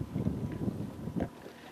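Strong wind buffets the microphone during offshore bass fishing from a boat on Lake Bolsena, a steady low roaring rush with gusty surges and no talk.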